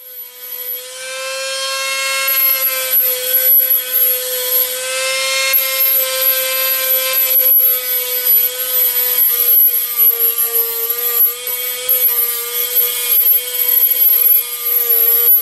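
A Saiga 12 shotgun barrel being cut with cutting oil applied, giving a loud, continuous, high-pitched metallic whine with a steady tone that holds throughout, no talking.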